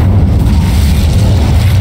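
Incendio fire spell cast in Hogwarts Legacy, a loud continuous low roaring whoosh of flame that holds steady for a couple of seconds with no voices.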